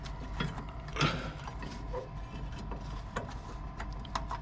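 Metallic ratcheting and grinding clicks come from the rusty landing legs of an HGV Class 1 trailer being wound down by hand, quiet and irregular, with no talking.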